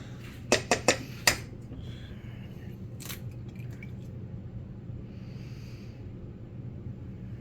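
An egg goes into a bowl for homemade hors d'oeuvres: four quick, sharp taps close together, then a long stretch of soft, faint mixing over a low steady hum.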